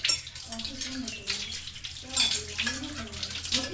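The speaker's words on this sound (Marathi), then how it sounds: "बघा परत दीदीला भांडी घासायचं भूत चढलेला आहे." Dishes are scrubbed and rinsed under running water, giving a steady splashing close by while someone talks over it.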